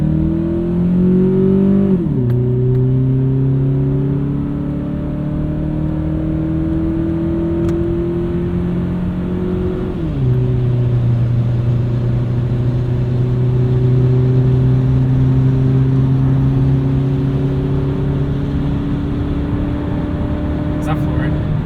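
A Toyota Camry fitted with a carbon fiber intake is heard from inside the car with the windows up on a highway. Its steady engine drone climbs in pitch, drops at two gear shifts and climbs again.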